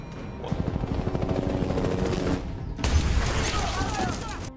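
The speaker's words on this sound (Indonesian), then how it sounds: "Brandon diperintahkan untuk melepaskan tembakan pertama" Rapid bursts of automatic gunfire rattle over a heavy helicopter drone, with a louder, denser barrage partway through.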